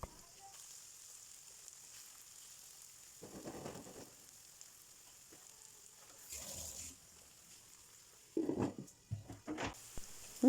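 Chopped tomatoes go into a pan of frying onions and red and green peppers for a Moroccan sardine kefta tagine. A faint, steady sizzle runs throughout, broken by soft stirring and scraping bursts that grow louder toward the end.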